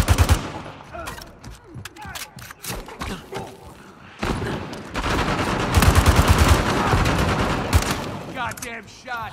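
Gunshots rattle through Uncharted 4 multiplayer, dense volleys of rapid close fire with scattered single cracks and thuds, building into a sustained heavy barrage in the second half.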